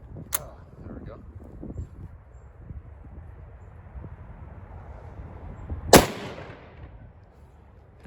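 A Mosin-Nagant rifle fires one loud, sharp shot near the end, with a smaller crack at the start, while muffled outdoor noise and faint background voices fill the rest of the clip.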